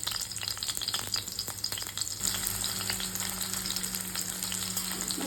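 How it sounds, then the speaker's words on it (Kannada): Ginger, garlic, onions and curry leaves fry in oil for a desi pasta: a continuous crackling sizzle with scattered clicks of stirring, steady and moderately quiet, with no voices. "ಇದು ಸ್ವಲ್ಪ ಫ್ರೈ ಆಗಿದೆ."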